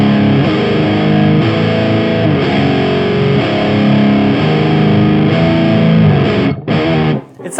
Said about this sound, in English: I'm gonna plug this in to the effects loop return and see what kind of tones we get with the pedal